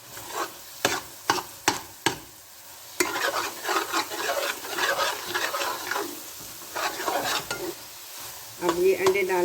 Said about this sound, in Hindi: अब ये अंडे डालने के बाद ये अब इसको फ्राई करेंगे अच्छी तरह से